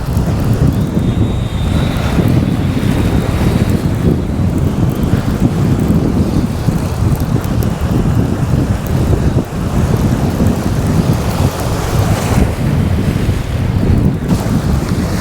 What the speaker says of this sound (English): There's quite a strong westerly wind coming through today